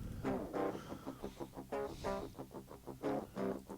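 Clean electric guitars recorded direct with no amp or effects pedals, playing a quick sequence of plucked notes and chords, dry and fairly quiet with no voice.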